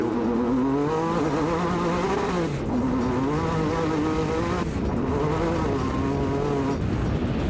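A Kittle buggy accelerates hard on a straight in desert country, its engine a loud, close, continuous drone climbing in pitch with each gear, dipping briefly at shifts before rising again.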